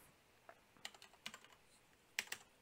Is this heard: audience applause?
no